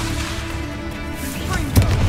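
A Bombarda spell blast in a Harry Potter video game lands as a loud booming burst near the end of a dense, rumbling stretch of combat noise.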